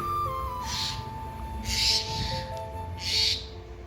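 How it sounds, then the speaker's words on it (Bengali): Several short bird calls sound outdoors at a moderate distance, arriving in brief bursts every second or so over a low steady background, heard from a kitchen while lentils cook. "এই জন্য আমাদের বাইরে পাখির শব্দও শুনতে পারবে তোমরা।"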